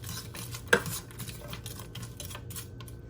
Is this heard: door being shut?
no